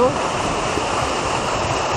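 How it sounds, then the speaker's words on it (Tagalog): Water rushes in a continuous, loud, close hiss, with no pauses over the whole stretch. "Talagang nakaka-relax yung tunog ng tubig."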